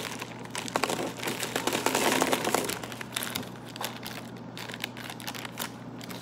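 Small hard candies rattle and clatter out of a crinkly bag onto a plate, a busy burst of patter that thins into scattered clicks.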